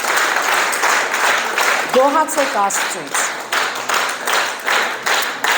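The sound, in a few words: congregation clapping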